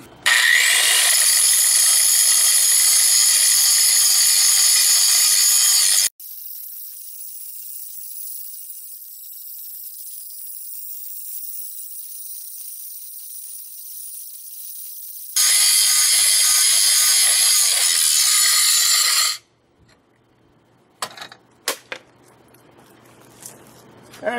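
A power grinder works steel for a homemade Harley Sportster trailer hitch clamped between 2x4s. Two loud, sustained high-pitched grinding bursts are separated by a quieter whirring stretch, then a few faint clanks.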